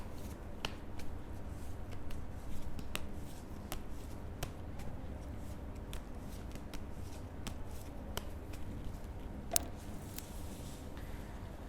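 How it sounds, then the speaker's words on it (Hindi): Tarot cards are shuffled by hand in a quiet room, producing soft riffles broken by crisp flicks and snaps at an uneven pace. The sound is close, faint and heard on its own without talk. "तो स्कॉर्पियो के लिए कार्ड्स मैं शफल कर लेती हूँ।"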